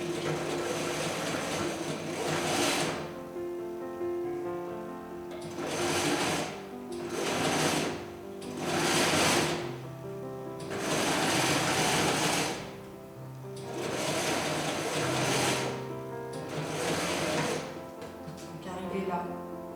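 Sewing machine stitching a welt pocket in fabric, running in several short bursts of rapid mechanical whirring separated by pauses, close and clear, with a voice speaking between runs.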